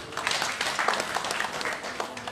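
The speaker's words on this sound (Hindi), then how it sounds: "तालियां बजाइए दूसरे पर।" Audience clapping at a community gathering in Haridwar, a dense patter of many hands that holds steady and fairly loud.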